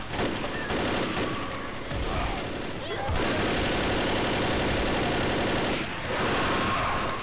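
Rapid bursts of gunfire from the zombie shooter Left 4 Dead, set in the Mercy Hospital level, crackling loud and nearly continuous through the whole stretch with short dips in between, and some chatter in the mix.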